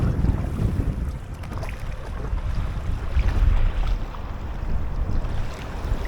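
Strong wind gusting over choppy reservoir water at Ladybower while paddling an inflatable Aquaglide Chelan kayak, with steady low roaring buffeting on the microphone and faint lapping waves, no voices.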